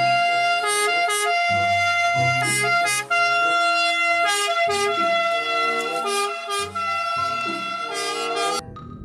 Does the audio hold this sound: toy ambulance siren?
yes